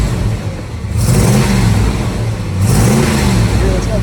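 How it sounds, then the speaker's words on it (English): A 1966 Chevrolet Impala SS with a 396 big block V8 and four-speed manual revs up in two loud surges, each climbing from a rumbling idle before settling back, close to the listener. "Let's give it a few revs here."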